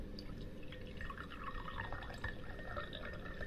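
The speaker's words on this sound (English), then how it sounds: "pour some water" Water poured from a container into a drinking cup, heard as a steady close liquid trickle with dripping and splashing, continuous throughout and with no talking.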